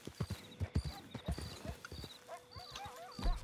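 Horse hooves clip-clop in the Red Dead Online video game, a quick run of close hoofbeats followed by a brief whinny near the end, with a faint tonal hum underneath.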